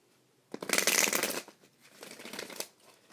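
Oracle cards are shuffled by hand in quick, close riffling bursts: a loud flurry first, then a softer second round of shuffling and drawing, with no talking.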